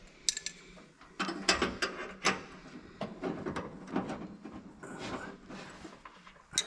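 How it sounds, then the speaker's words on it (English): A wrench works a bolt on an abandoned junkyard car, a close series of irregular metallic ratcheting clicks and clanks coming in short bursts with pauses between. "you got to use the biggest possible wrench you got"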